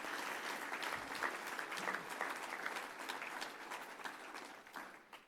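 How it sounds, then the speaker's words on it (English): Sustained audience applause fills a gala hall, a dense wash of many hands clapping steadily for about five seconds, fairly even in level before tapering slightly at the end, with no one speaking over it. "So let's give a round of applause to that."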